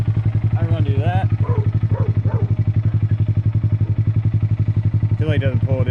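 The 2023 Honda Grom's engine idles nearby with a steady, loud, rapid thumping pulse that lasts the whole stretch, and a person talks over it at times.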